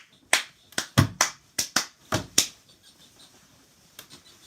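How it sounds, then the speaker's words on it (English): Children clap their hands during a Sunday school game of Simon Says, a quick burst of about eight sharp, close claps followed by a couple of faint, scattered ones. "Simon says, clap your hand."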